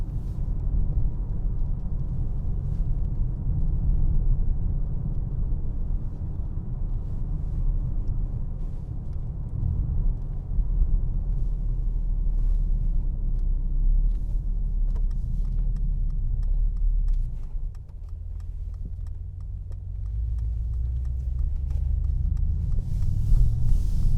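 A 2021 Mercedes-AMG E63S Wagon driving at night, heard from inside the cabin: a steady low engine and road rumble that shifts in tone partway through as the car changes pace. No talking.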